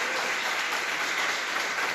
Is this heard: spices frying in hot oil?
no